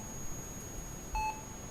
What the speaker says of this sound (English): The hospital's beeping is loud, too loud.